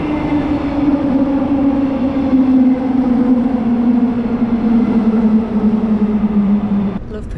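Steady rumbling drone of a Perth passenger train in motion, heard from inside a carriage, with a constant low hum and faint rhythmic rattle throughout.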